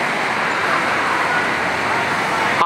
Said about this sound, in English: I am now in the very busy and noisy square of San Francisco of Assisi